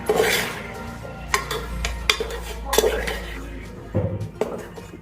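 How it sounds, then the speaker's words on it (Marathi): A spoon scrapes and clinks against a metal pot as a thick sesame, jaggery and peanut ladoo mixture is stirred with ghee, with repeated sharp knocks and a low hum underneath. "त्यामध्ये आपण एक चमचा तूप टाकत आहोत आणि ते हलवून घ्यायचं व्यवस्थित"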